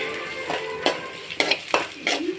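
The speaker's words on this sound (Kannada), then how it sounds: "ಎಣ್ಣೆ ಕಾದ್ಮೇಲೆ ಈರುಳ್ಳಿ 2 ಕಟ್ ಮಾಡ್ಕೊಂಡಿದ್ದೀನಿ, ಚಿಕ್ಕ ಚಿಕ್ಕದು. ಈ ಈರುಳ್ಳಿನ ಹಾಕ್ತಾಯಿದ್ದೀನಿ" Small-cut onions dropped into hot oil, with a light sizzle under scattered sharp clinks and stirring knocks from a utensil against the pan, all fairly close.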